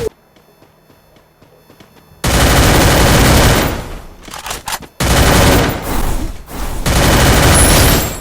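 Gunfire in the mobile shooter Free Fire: after two quiet seconds, loud sustained automatic bursts erupt, with brief gaps and dips between rapid volleys that run to the end.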